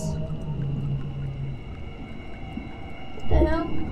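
Whale calls in the video game Conarium, heard as a low droning moan followed by a louder rising, wavering cry near the end, set against a steady underwater rumble.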